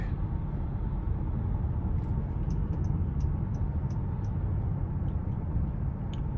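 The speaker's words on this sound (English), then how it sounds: "And pretty quiet in here under light throttle. The powertrain itself sounds V6-y" Inside the cabin of a 2023 Honda Odyssey Touring with its 3.5 V6 under light throttle, a low, steady, subdued engine and road rumble drones evenly throughout, with a few faint ticks on top.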